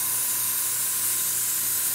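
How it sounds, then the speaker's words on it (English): A Badger 350 siphon-feed airbrush sprays in a steady, close, airy hiss that holds constant for about two seconds with no other sounds. "a Badger 350 airbrush for doing what I'm doing right now is ideal"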